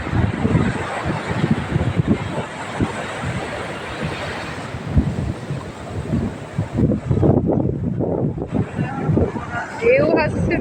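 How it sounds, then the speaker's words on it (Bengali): Large ocean waves at a beach surge and wash in repeated gusty swells over strong wind buffeting the microphone, loud and close, with people talking at times. "ঢেউ আসছে দেখো কত বড়।"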